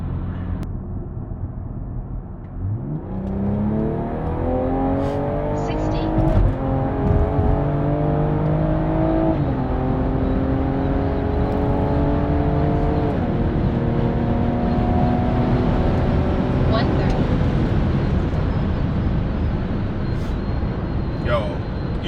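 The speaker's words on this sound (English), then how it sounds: "I'm gonna go ahead and speed up so I can slow down. So let me speed up." A stock BMW M340i accelerates hard from 60 to 130 mph, its engine note climbing steadily through several gears with brief dips at each upshift, heard loud from inside the cabin over road and wind roar.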